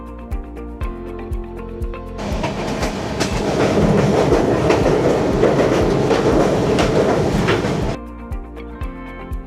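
A train rolls slowly across the Mahananda river bridge in the hills, a loud sustained rumble with steady clickety-clack of wheels over the girders, swelling in the middle and fading at the end.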